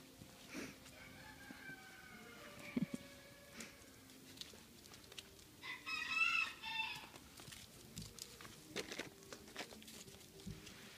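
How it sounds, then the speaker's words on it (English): Chickens on a farm cluck and a rooster crows, scattered calls near and far with the crowing loudest midway, over low background rustle and no talk. "Here's chickens."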